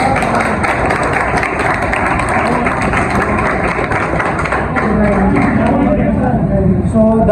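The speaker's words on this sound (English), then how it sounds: "First clap for everyone." Close, loud clapping from students at a school debate competition, a dense and steady patter of hands lasting the whole stretch.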